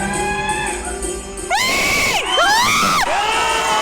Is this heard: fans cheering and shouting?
yes